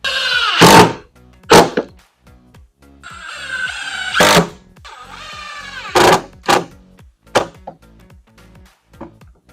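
A power driver sinks screws through a poly plastic back brace of an Adirondack chair: short whirring bursts with sharp knocks and clicks between them, close and fairly loud, with no voices.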